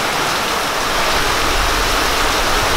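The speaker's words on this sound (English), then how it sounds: "It rains in Nigeria, it rains very hard," Heavy rain pouring hard in Nigeria at the end of the rainy season, a loud, dense and steady roar of falling water with no voices.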